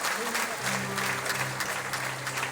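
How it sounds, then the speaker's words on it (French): Church congregation applauding in praise, a steady wash of clapping throughout with a low sustained hum and what sounds like music or voices underneath. "nos applaudissements"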